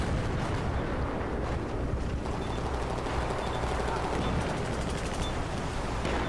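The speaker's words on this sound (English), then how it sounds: "There comes some guys blasting rockets." Rockets blasting in a multiplayer video game match, a steady dense rumble of launches and explosions heard faintly in the background, with voices talking over it.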